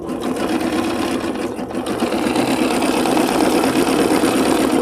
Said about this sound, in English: some sewing here.